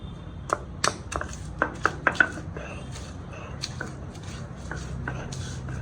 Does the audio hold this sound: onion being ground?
yes